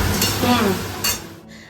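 Leafy greens sizzle in a pan while a utensil stirs and scrapes, with a couple of brief bursts of crackling.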